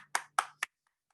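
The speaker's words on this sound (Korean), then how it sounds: "다시 한번 우리 예배를 받아주신 하나님께 감사 영광의 박수 올려드리겠습니다" Three crisp hand claps close to the microphone at the end of a youth church worship service held over Zoom, evenly spaced, then quiet.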